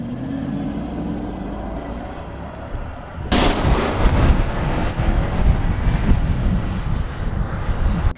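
A Land Rover LR3 accelerating hard from standstill in sport mode, a low engine roar that rises abruptly partway through and holds loud and steady, with heavy wind buffeting across the microphone.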